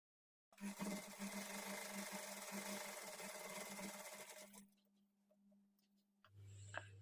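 A sewing machine runs steadily while stitching a blouse, a rapid, even mechanical whir lasting about four seconds before stopping, followed by a few faint clicks and a low hum.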